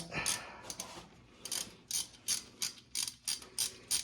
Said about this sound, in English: Let me see if I can get this bolt further in now.